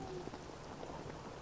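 Steady, dense rain hisses across the whole scene in the Dying Light 2 video game, a continuous even wash of falling drops with no speech over it.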